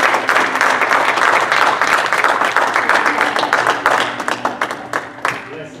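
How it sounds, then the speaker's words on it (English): A church congregation claps in praise during a service, loud sustained applause from many hands that thins out into scattered individual claps before fading toward the end. "Give the Lord a hand clap of praise."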